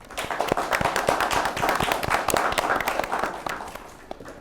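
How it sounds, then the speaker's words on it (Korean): Applause welcoming sign-language and stenography interpreters at a Korean disability forum on university students' learning rights, a dense roomful of hand claps that holds steady for about four seconds and then begins to fade. "큰 박수로 다 환영해 주십시오."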